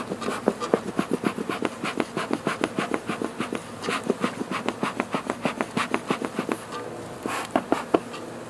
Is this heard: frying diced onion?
no